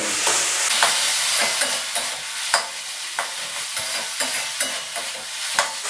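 A spatula stirs vegetable spring roll filling with chili sauces in a hot pan, the steady sizzle of frying broken by repeated scraping strokes in an uneven rhythm, close up with no voices.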